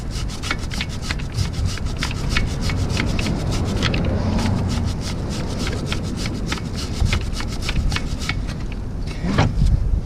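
Steady scrubbing and spraying on an Aprilia Tuono motorcycle chain being cleaned with WD-40, a continuous close rubbing texture with repeated sharp bursts throughout and a louder spray near the end, no talking.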